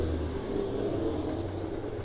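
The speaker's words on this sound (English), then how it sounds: "Look at that Neesmith Street Stock hustle down the back straightaway here at Alltech." A Neesmith Street Stock race car runs down the back straightaway at Alltech Raceway, a steady loud engine rumble and roar holding evenly throughout with no talk.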